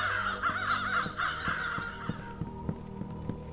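Crows caw in the video game The Beast Inside, a thick chorus of harsh calls that thins out halfway through, leaving a low droning background with faint regular thumps.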